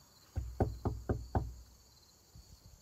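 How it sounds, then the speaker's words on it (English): Five firm knocks rap on the door of an old farmhouse building in an even rhythm, close and distinct, followed by a couple of fainter thuds after a pause amid quiet outdoor ambience. "Let's knock and see if anybody knocks back."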